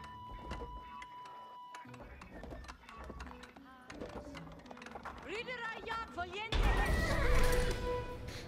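Horses at the stables in the strategy video game Age of Empires IV give a couple of neighs and whinnies amid game sound effects, with a narrator talking over them throughout.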